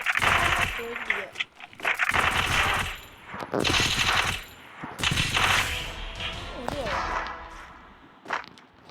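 Rapid bursts of EVO gun fire in a shooting video game, sharp repeated shots in clusters spread across the clip, mixed with game effects and a voice talking over them.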